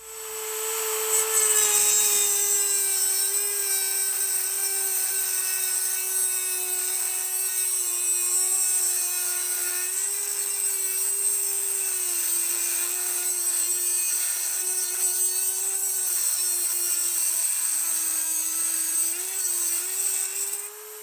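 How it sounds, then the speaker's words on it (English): A Dremel rotary tool with a metal cutoff wheel slices through metal held in vice grips, giving a loud, sustained high-pitched whine that holds steady for about twenty seconds close to the microphone. "Now I'm going to take my Dremel with a metal cutoff wheel and make a slice right through there."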